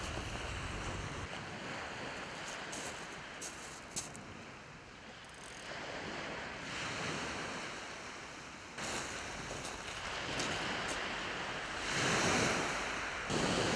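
Waves washing onto a beach on a calm evening, a steady soft surf that swells and recedes, with light wind noise against the microphone and no voices.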